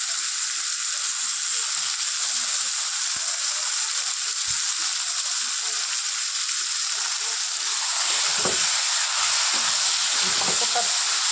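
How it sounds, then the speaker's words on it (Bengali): Washed, chopped ridge gourd sizzling in plenty of hot oil, a steady bright hiss close by, with a few clattering stirring knocks toward the end and no speech. "কেটে ধুয়ে রেখেছিলাম, ঝিঙেটা দিচ্ছি।"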